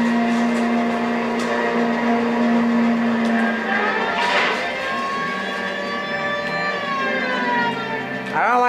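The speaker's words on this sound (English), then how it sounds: "The siren turned on." A police car siren in the video game LA Noire wails in a steady tone that later begins sweeping up and down, loud and up front over a droning car engine.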